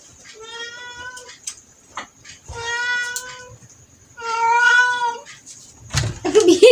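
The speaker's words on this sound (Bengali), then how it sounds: "বিড়ালগুলো চিল্লাচ্ছে।" Several cats meowing loudly in a home, drawn-out harmonic cries coming in three long bouts with short gaps, fairly close, with a clatter at the end.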